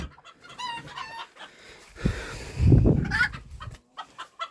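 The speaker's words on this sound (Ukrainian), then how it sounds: "Ще ж я квочок тут якраз годую." Hens and a rooster on a small farm where broody hens are being fed, with steady clucking and a crow rising in the middle, close and fairly loud, with no talking.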